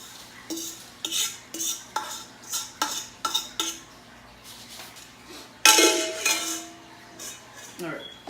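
A spoon presses and scrapes a cheesecake crust into a 9-inch springform pan, giving a series of short rhythmic scraping taps, close and moderately loud, with one louder burst of rattling near the end.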